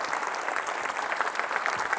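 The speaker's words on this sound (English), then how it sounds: "big round of applause for Lewis" Audience applauding a presenter, a dense, even patter of many hands clapping at moderate volume with no voices over it.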